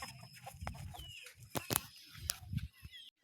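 Several farm chickens cluck in short irregular bursts, close and moderately loud, with a few sharper calls among them.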